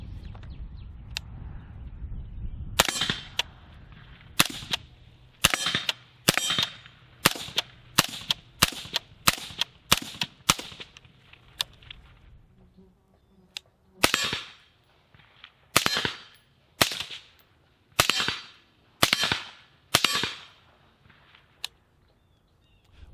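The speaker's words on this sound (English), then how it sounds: "We're going to alternate a few steel, dirt, just so you can kind of hear the difference here." An IWI Zion 15 rifle fires a long series of sharp, separate shots at an outdoor range, alternating between rounds hitting steel and rounds hitting dirt. The shots are spaced about a second or two apart, with a short quiet gap in the middle.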